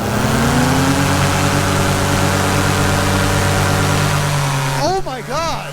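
A paramotor engine holds wide open throttle during a climb, a loud, steady, buzzing drone with strong harmonics under wind roar, then briefly wavering near the end.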